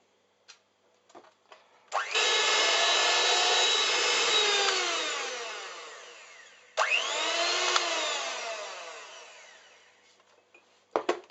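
An electric mixer whirs through cake batter in two long runs, the motor's pitch bending up and down as it starts and stops, with short knocks and clatters before, between and after.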